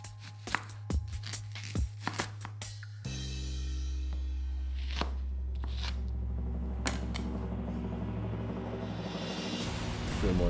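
Onion chopped with a knife, a few crisp cuts followed by a steady hum and fainter scattered knocks, with the cuts close and distinct.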